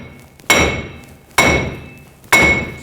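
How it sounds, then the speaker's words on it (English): A hammer strikes a wheel hub assembly from the back side on a 2014-2018 GMC Sierra 1500, three sharp metallic blows spaced under a second apart, each ringing briefly before fading. "I'm just going to give it a tap from the back side."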